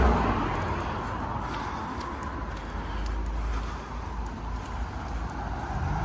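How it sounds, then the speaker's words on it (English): Road traffic passes along a village road in Snowdonia National Park, a continuous rumbling wash of vehicles that swells and fades slightly, heard from the roadside under steady low noise. "It's not an ideal time to do this with the traffic being so bad."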